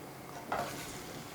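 Eggs dropped into hot oil with turmeric in a pan for egg curry, a soft sizzle with a brief clink of utensil, quiet and close.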